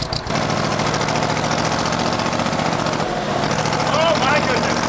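A Lamborghini tractor engine runs steadily throughout, loud and close, with a few faint higher tones near the end.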